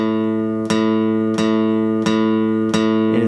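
A guitar string picked repeatedly while tuning with an electronic tuner: four evenly spaced plucks, each ringing into a sustained, bright, harmonic-rich tone, loud and close, with no talking.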